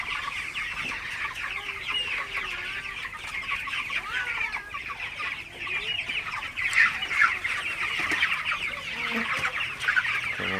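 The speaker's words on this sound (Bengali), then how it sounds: "মুরগিগুলো খুব ভালোভাবে পানি খাইতেছে" Broiler chickens on a farm cluck continuously while drinking water, a dense busy chorus of soft calls at steady, moderate loudness with no talk.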